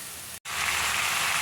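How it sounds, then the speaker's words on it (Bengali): Soaked soybeans frying with vegetables in a pan make a loud, even sizzling hiss, close up, with one momentary break near the start. "এই সয়াবিনগুলোকে ভেজে নিচ্ছি সবজি দিয়ে"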